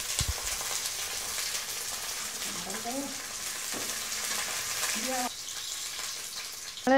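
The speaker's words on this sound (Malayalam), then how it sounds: "ഇതിപ്പം നമ്മൾ രണ്ടാം പാലിൽ അടയിട്ട് അട വേവിച്ചുകൊണ്ടിരിക്കുകയാണ്" Rice ada pieces simmering in thin second coconut milk in a Kerala village kitchen for ada payasam, giving a steady soft bubbling hiss with a voice talking over it.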